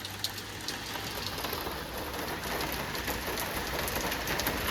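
Rain falls outside in a continuous, dense patter that stays even throughout, fairly close with no voices and a soft low rumble underneath.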